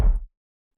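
A short synthesized explosion sound effect built for an Apex Legends audio redesign: one deep, booming low-end hit with a brief bright crack at the start, decaying fast into silence within a third of a second.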